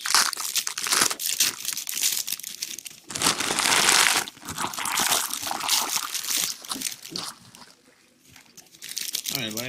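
Someone tears open a foil pack of Prism trading cards up close, making loud crinkling and crumpling foil noises with bursts of tearing. The sound dies down briefly near the end and then comes back.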